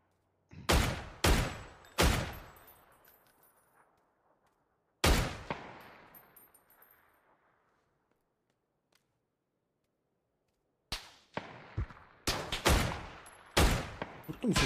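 Bursts of gunfire from a FAMAS rifle and a Dragunov sniper rifle in PUBG, arriving in sharp clustered volleys with decaying echoes, separated by a long quiet gap before a final run of rapid shots.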